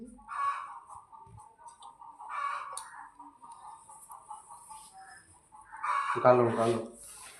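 Chickens cluck and cackle nearby while people talk, with a louder burst of squawking toward the end.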